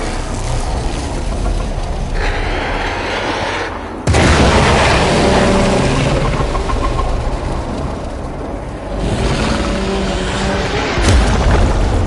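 An explosion in the video game Warframe, a heavy sustained rumbling roar that surges abruptly at about four seconds and again near the end, loud and continuous throughout.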